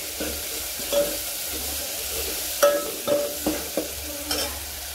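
Tomatoes and coriander sauteing in a pan for spicy tangy toor dal, a soft background sizzle broken by several sharp spoon clinks and scrapes against the metal.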